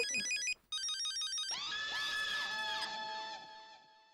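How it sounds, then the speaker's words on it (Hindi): A mobile phone rings: a quick repeating electronic chirp pattern, a short break, then a louder melodic ringtone tune that plays on and fades. "फोन आ रहा है भाई।"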